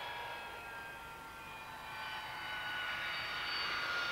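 A Harrier jet with wide outriggers taxiing across rough ground off the runway, its engine producing a steady, loud whine and roar that swells slightly toward the end, with no voices.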